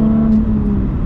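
A Ford Mustang converted into a Mustang Bar engine, accelerating gently as a steady low rumble with a strong tonal hum, loud and close and continuous with no voices over it.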